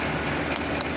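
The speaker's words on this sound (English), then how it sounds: "Engine is not stopping. and the engine is still working" Nissan car engine left running while its alternator is tested, a steady close-up hum with a few faint clicks over a little over a second.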